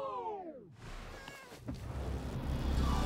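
A cartoon cat gives one drawn-out meow, close and clear at the start, followed by soft background noise.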